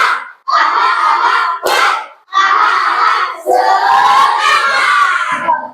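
Classroom children chanting loudly together in a rhythmic spirit clap routine, several bursts of massed young voices with short pauses between, close and energetic.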